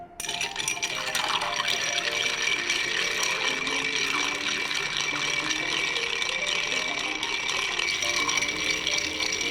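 A spoon clinks and rattles continuously against a glass while a strong cocktail is stirred, a steady close jingling of ice that runs the whole time with no pause.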